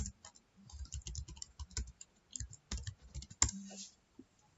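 A computer mouse clicks in quick, close, quiet taps, an irregular series of sharp ticks with brief pauses, faint and nearby.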